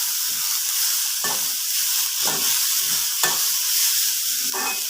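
A coconut, green chili, salt and turmeric mixture is stirred into bitter gourd thoran in a pan, giving steady close scraping strokes at roughly one-second intervals over a constant soft sizzle.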